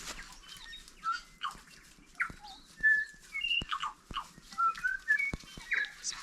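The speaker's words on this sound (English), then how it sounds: "Listen to the bird life up here." Several wild birds whistle and chirp in scattered, overlapping calls, some near and some farther off, with occasional sharp clicks in an otherwise quiet outdoor setting.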